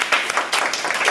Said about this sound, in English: If we could give her another round of applause.